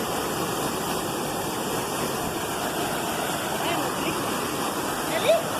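A waterfall in Serra Negra State Park, Itamarandiba, Minas Gerais roars in a constant, loud wash of rushing water, with a faint voice briefly audible under the noise.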